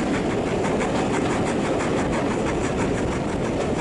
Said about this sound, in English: look at this loco as she goes across the viaduct